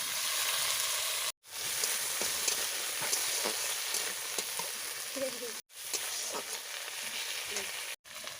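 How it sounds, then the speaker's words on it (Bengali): Tomato and onion frying in a karahi, a loud dense sizzle running steadily and cut by a few abrupt brief gaps, close and with no voices. "টমেটোটা পেঁয়াজটা ভালো ভাজা হবে।"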